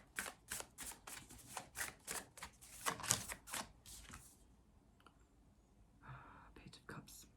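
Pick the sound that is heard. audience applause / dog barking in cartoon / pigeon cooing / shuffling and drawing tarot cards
shuffling and drawing tarot cards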